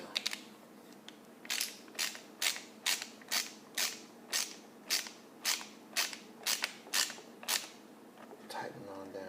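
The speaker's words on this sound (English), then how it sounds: "Let's take my lock nut and tighten this on down." A lock nut tightened onto a plastic wheelie bar on a Traxxas 4-Tec brushless RC truck with a ratcheting tool, giving a regular series of about a dozen crisp, close clicks evenly spaced under faint background noise.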